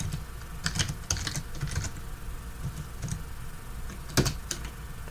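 Fingers type on a computer keyboard in quick irregular clusters of clicks, close and clear over a low background hum, with no voices.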